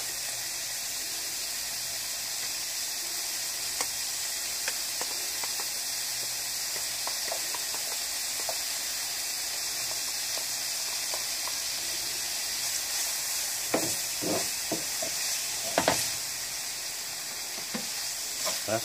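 Onions fry in a pan for shrimp tacos with a continuous, even sizzle and hiss, and occasional stirring scrapes and small spits near the end, with no talking.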